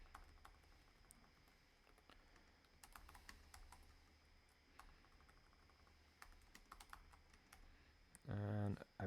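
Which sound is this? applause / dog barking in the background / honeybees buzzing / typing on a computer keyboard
typing on a computer keyboard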